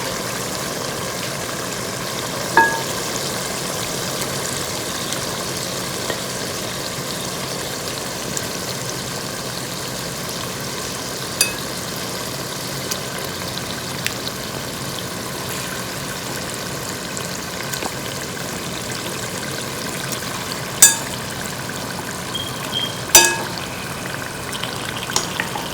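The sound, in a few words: mutton frying with roasted spices in pot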